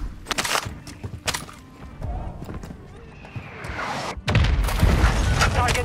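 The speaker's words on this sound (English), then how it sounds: "Enemy mortar strike inbound." Mortar strike explosions in the Call of Duty MWII video game, with heavy booms and sharp cracks that build into a loud rumbling blast near the end, under scattered gunfire and game chatter.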